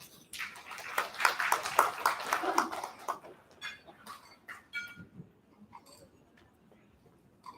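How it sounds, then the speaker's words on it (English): A short burst of applause from a group rings out, then thins into scattered claps and fades. "let's give a round of applause to welcome Madam Andrea Anak Vincent."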